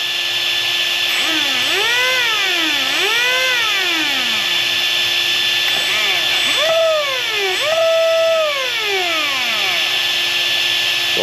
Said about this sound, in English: So the motor works.